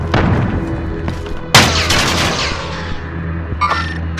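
Gunfire in the battle royale game Rebirth: loud close shots and booms, with a sharp heavy blast midway followed by rumbling decay and a few more distant bursts near the end.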